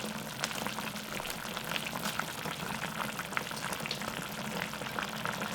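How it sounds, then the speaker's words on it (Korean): Onion going into a pot of Korean braised squid (ojingeo jorim) as it simmers, a steady, dense sizzling and bubbling throughout with no talking. "지금 이제 양파를 넣어"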